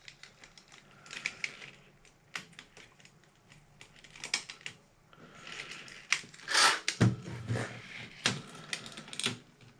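Keycaps being pried off an Amstrad PPC640 laptop keyboard, a scattered run of light plastic clicks, snaps and rattles, irregular and close, with a louder cluster of crunchy clacks near the end and no voices.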